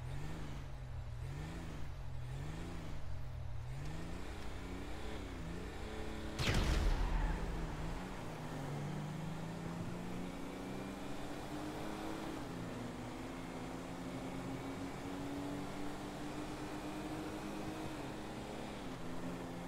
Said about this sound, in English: we are going to have a drag race to see which piece of shit is the fastest